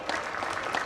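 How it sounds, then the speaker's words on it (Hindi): A crowd claps steadily and densely at a political protest speech held by BJP members, the applause filling the whole moment with a continuous, even roar and no pause. "इन दोनों के लिए ताली बजाओ"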